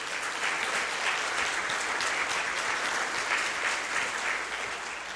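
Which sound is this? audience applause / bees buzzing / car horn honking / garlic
audience applause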